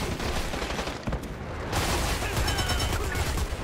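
Gunfire in the shooter game Dirty Bomb: a dense, loud, continuous barrage of shots with a brief break and a second sustained burst, mixed with other game noise.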